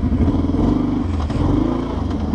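A Kawasaki Brute Force ATV engine runs steadily up close on rough ground after being put into four-wheel low, a continuous loud low rumble with faint clatter and no talking.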